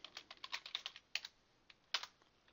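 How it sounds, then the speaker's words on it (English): Quick, light keystrokes tap out a password on a computer keyboard, a rapid burst of clicks followed by a pause and a couple of final taps, close and quiet. "And then you just run this and then type in a password."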